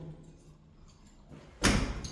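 A stairwell door in a Kyiv apartment building closes with a single sudden thud near the end after a quiet stretch, followed by a short, fading rattle.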